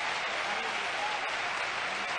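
Steady applause from a tennis crowd at the 1989 Masters semifinal between Becker and McEnroe, a continuous wash of many hands clapping at moderate distance for a couple of seconds.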